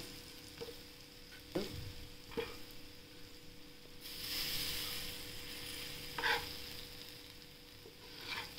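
Raw banana slices fry in oil over medium heat, giving a soft continuous sizzle broken by a few sharp clinks and scrapes as the slices are turned, with a brief swell of louder hissing midway.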